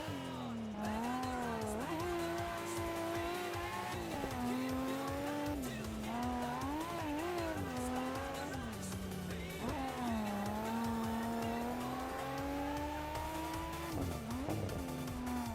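A Gojira race car drifts through a hairpin in the Tatakai racing game, its engine droning loudly while tires squeal in long wavering tones, with shifting pitch as it slides and accelerates out.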